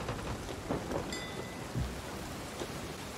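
A thunderstorm with steady rain in the pirate game Sea of Thieves, constant rain hiss under a few low rumbling thunder thumps, fairly close and moderately loud, no one talking.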